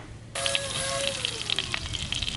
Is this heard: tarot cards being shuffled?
no